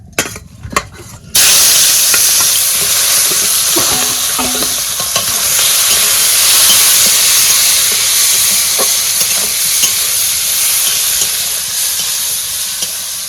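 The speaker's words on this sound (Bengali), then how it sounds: "তেল গরম হয়ে গেছে চিংড়ি মাছ কটা ঢালিয়ে দিলাম" Shrimp hit hot oil in a wok and burst into a loud, steady sizzle that carries on for several seconds with stirring, after a few quiet knocks at the start.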